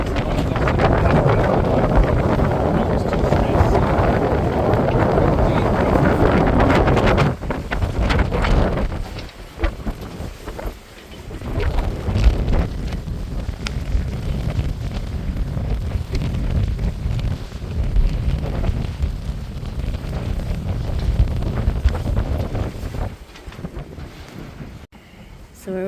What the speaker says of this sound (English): the wind's coming 60 degrees to us, and it's blowing the sea onto us a bit